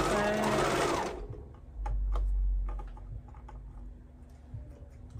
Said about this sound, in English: Sewing it all the way out.